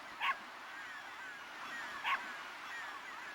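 A dog whimpers in a video game, The Legend of Dragoon, with two short, high whines about two seconds apart over a faint, steady background hum.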